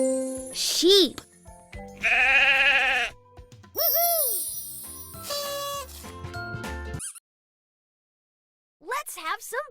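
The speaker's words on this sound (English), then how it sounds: "Sheep." Repeated sheep bleats from an animal jigsaw puzzle game ring out loud and clear in several separate calls, with a pause of silence before a final bleat, mixed with short game chimes.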